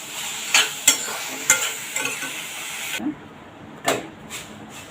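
Vegetables for a pan-cooked tawa pizza sauté in a hot pan, with a sizzling hiss and repeated scraping stirs that briefly drop away before a couple more scrapes.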